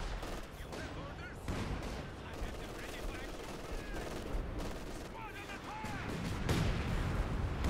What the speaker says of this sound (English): An artillery barrage again coming down.